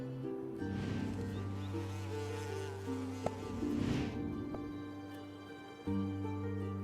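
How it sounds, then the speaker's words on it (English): A bee feeding on nectar at a flower gives a steady close buzzing drone with shifting pitch, continuous for several seconds with a brief dip near the end. "You just see a bee feeding on nectar."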